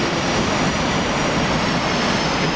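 Jet aircraft engine roaring at full power during a heavily loaded takeoff run on runway 27 in the DCS World flight simulator; a loud, steady, broadband roar fills the whole clip with no talk.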